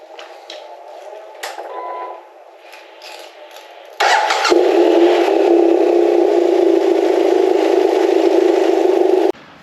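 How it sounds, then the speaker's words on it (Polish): A 2014 BMW F800R motorcycle engine starts with a burst, then settles into a steady, loud warm-up idle that runs on evenly, after a few quieter mechanical clicks and rattles. "motocykl odpaliłem, rozgrzałem, poczekałem"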